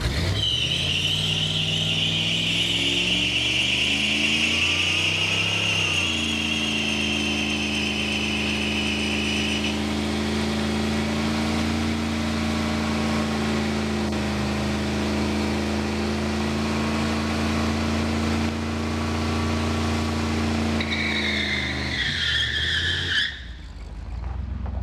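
A 1991 Chevy 454 SS truck with a new engine doing a burnout: a loud, sustained tire screech over a revving V8 whose pitch climbs, holds and sags, ending abruptly.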